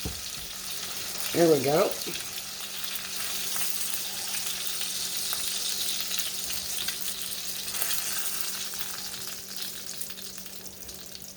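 Southern-style pork chops pan frying in a skillet give a steady, close sizzle and crackle that runs the whole time, with a brief spoken remark near the start.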